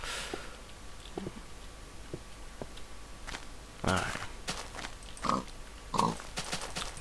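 Pig grunts in the video game Minecraft, survival mode: a few short, soft oinks and grunts spaced through a quiet scene among footsteps and small thumps, with a person talking quietly.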